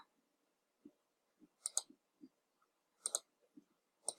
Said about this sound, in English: click your name, hit OK